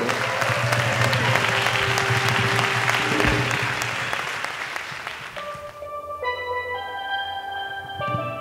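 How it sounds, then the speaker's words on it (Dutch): Warm applause from an audience at a commemoration event for a steelpan player, sustained and full for several seconds, then thinning out as bright steelpan notes begin to ring over the last claps. "Dames en heren, een liefdevol applaus voor Charissa Granger."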